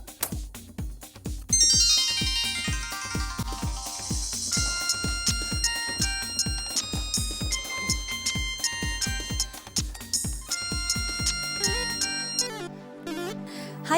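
A mobile phone rings with an incoming call from Australia, playing a bright, melodic electronic ringtone that repeats its tune for about twelve seconds before ending on a lower sustained tone. The ringtone plays clearly on its own.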